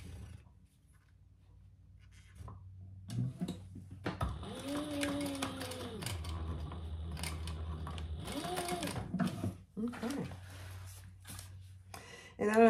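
A sewing machine stitches a clutch bag in two bursts of whirring motor and rapid needle clatter, close and fairly loud, separated by pauses with handling noises.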